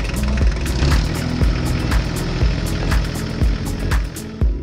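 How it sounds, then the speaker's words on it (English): A tractor towing a feed mixer runs inside a cattle barn, a steady engine drone with regular rhythmic knocks and clanks from the machinery. "The tractor with the mixer slowly moves along the barn."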